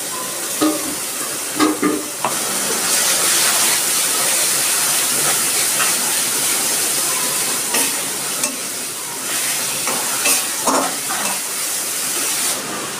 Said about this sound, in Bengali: পেঁয়াজটা ভাজা হয়ে গেছে, আমি এবার দিচ্ছি আদা রসুন পেঁয়াজ পেস্ট